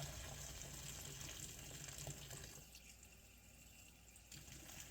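Water from a pot of cooked macaroni gushing into a sink as it is drained, a steady rushing pour that softens and thins partway through, faint and alone.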